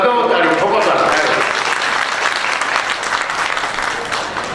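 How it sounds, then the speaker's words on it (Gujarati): Audience at a Kutch Gau Dhan Yatra talk breaks into loud, sustained clapping, a dense wash of hand claps that stays steady for several seconds before tapering slightly. "લગાવો તાળી ઠોકો તાળી."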